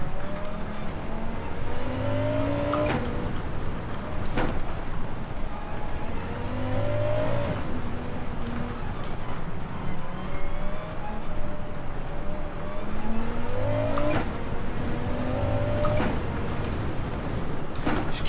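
A car engine in Gran Turismo 7 revs and accelerates repeatedly through gear shifts, a steady loud racing drone with rising pitch sweeps every few seconds.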